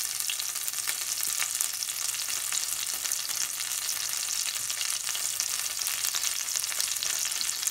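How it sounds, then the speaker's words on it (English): Butter melts and sizzles in a pan, a continuous close hiss of frying with fine crackles and no voices. "I'll wait for the butter to melt a little bit more."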